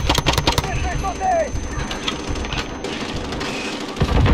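Enemy machine gun fire in Call of Duty: Modern Warfare on difficult mode: a close, rapid burst of shots crackles at the start, then fades under someone talking and game noise.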